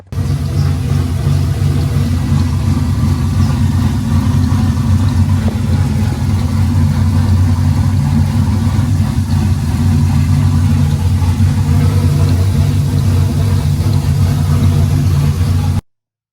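A car engine runs steadily at idle, close and loud, a constant low rumble for the whole stretch, started up to check for a power steering pump leak.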